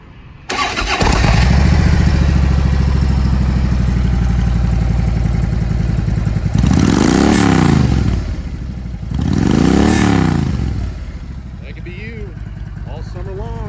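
A 2011 Harley-Davidson FLHTK Ultra Limited with a 103 engine, Stage 1 breather and Vance and Hines pipes fires up, settles into a loud, lumpy close idle, then is revved twice in sweeping throttle blips before returning to idle.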